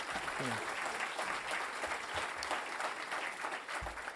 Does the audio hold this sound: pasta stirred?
no